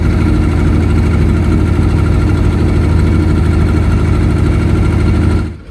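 A fishing trawler's engine drones loud and steady as the boat heads out on the Bay of Bengal, a constant low rumble that cuts off abruptly at the end.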